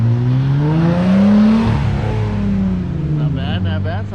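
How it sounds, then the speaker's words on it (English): A Jeep Gladiator with a new exhaust revs, a loud close engine note that rises then falls over a few seconds, with a voice heard briefly near the end. "So the Gladiator got a new exhaust, so we're about to hear what it sounds like."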